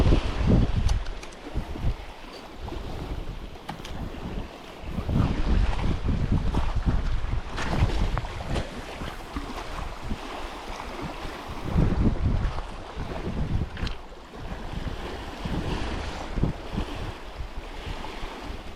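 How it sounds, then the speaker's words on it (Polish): Strong wind gusts buffeting the microphone while fishing in Norway, rising and falling in heavy rumbling surges over a watery, outdoor background, with no one speaking. "Już chyba nawet ten wiatr nie będzie mi przeszkadzał."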